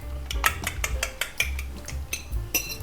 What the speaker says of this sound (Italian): Sbattiamo le 3 uova in un contenitore dove abbiamo messo tutto il nostro zucchero